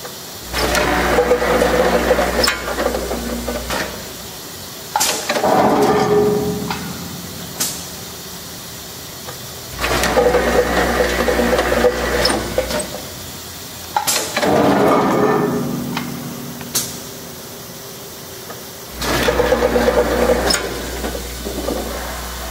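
A Weighpack AEF-1 three-lane linear scale weigh filler runs in repeating cycles, a steady mechanical hum and hiss rising and falling roughly every five seconds with short gate clunks, loud and close with no voices.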